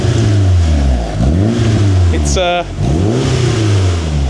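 A Mitsubishi Evo engine, restarted after sitting for 17 years, gives short revs over a steady running drone, with a brief sharp burst near the middle and people talking throughout.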